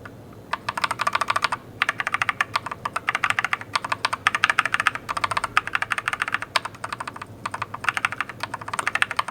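Rapid typing on a DIERYA DK61E 60% wired mechanical gaming keyboard with brown switches, close and crisp, dense irregular clacks in bursts with a few short pauses, no talking.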